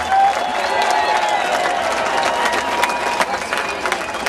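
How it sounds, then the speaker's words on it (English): A large outdoor crowd of patriots applauds and cheers at a Freedom Plaza rally during the 9/12 March on Washington, with dense, loud, steady clapping that fills the whole stretch without a break. "Let's give our nation a round of applause"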